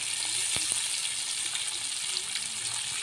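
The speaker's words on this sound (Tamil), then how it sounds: "மீன் நல்லா பக்குவமான நேரத்துல பொறிஞ்சு வந்துட்டு" Fish frying in hot oil, a steady close sizzle with crackling pops and a couple of sharp clinks from stirring, no talking.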